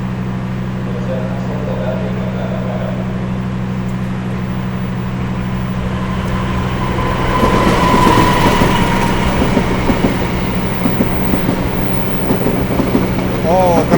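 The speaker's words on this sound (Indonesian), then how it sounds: "dari jalur 4 ada kereta api melintas langsung ya" The Kertanegara train passes close by on track 4 at an Indonesian station without stopping, its steady rumble swelling into rhythmic clattering wheels, with someone speaking faintly in the background.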